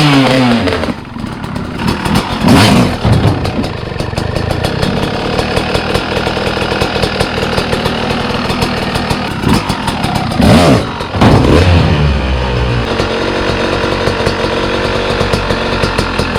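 A dirt bike engine revs loud and close, its pitch climbing and dropping in repeated bursts as the rider tries popping the front wheel onto a file cabinet, with no talking over it.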